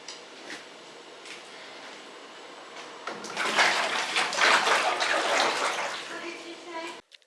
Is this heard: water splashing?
yes